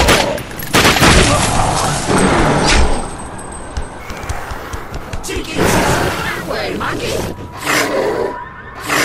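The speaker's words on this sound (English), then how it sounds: "And don't stop shooting till he's a pile of meat!" Repeated gunfire and booming blasts from a first-person shooter game, The Darkness 2, loud and sustained, with shouting voices and grunts mixed in throughout.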